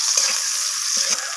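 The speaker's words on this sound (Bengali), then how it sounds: "তো ডাঁটাটাকে একটু লালচে করে ভেজে নেব" Vegetable stalks seasoned with turmeric and salt fry in hot oil, giving a steady, close, bright sizzle with a few faint soft stirring knocks and no voices.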